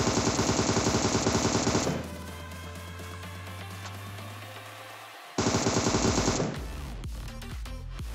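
Rapid automatic gunfire in PUBG blasts in two dense bursts, separated by a quieter gap with a low sustained tone, then lighter scattered shots.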